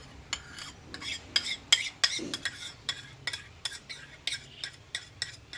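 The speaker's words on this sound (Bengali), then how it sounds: "দইটা ভালোভাবে এইভাবে ফেটিয়ে নিতে হবে" A spoon or whisk beats yogurt together with ground cashew and poppy seed paste in a bowl, a quick, steady run of light clinking strokes against the dish, close and fairly quiet, with no talking.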